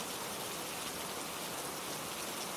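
Steady rain falls in a continuous, even hiss, dense and unbroken throughout with no voices.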